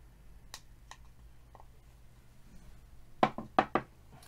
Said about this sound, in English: going to use the screwdriver to clean up that middle bit there